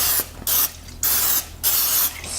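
Cooking spray misted onto a bread loaf pan in three short broadband bursts, close and fairly loud, with a faint hum beneath and no talking.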